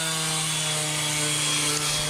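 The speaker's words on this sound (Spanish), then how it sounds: "Entonces nada más con la lija se va a remover todo lo quemado" Coarse number 60 sandpaper grinds across a burned concrete patio bench, a steady, loud abrasive rasp with a constant droning hum throughout.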